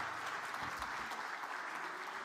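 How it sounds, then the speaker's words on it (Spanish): An audience at an urban planning conference in Santiago gives a brief, steady round of applause for a speaker, dense clapping from a seated crowd lasting a couple of seconds. "Un fuerte aplauso, por favor, para Gabriela Elgueta."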